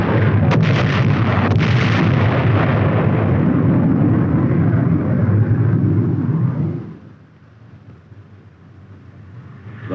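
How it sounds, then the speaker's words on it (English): General-purpose bombs dropped by aircraft explode in archival 1950s US Army combat footage, a loud, sustained roaring rumble of blasts that cuts off abruptly to a low background murmur. "the first flight drops general-purpose bombs."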